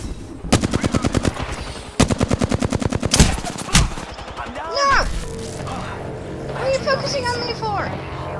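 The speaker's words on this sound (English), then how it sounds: "Three people shooting you perfectly right there." Rapid automatic gunfire in Apex Legends, two loud bursts of evenly spaced shots, then a few single cracks, followed by game effects with a voice talking over them.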